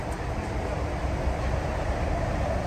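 Train travelling between stations, a steady loud interior roar and rattle of the moving carriage with a dense low rumble and no pauses throughout.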